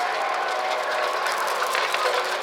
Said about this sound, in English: look at this machine. He's ironing them.